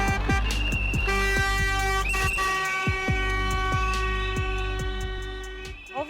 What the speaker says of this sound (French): Au cœur d'une zone résidentielle, un concert de sifflets et de klaxons.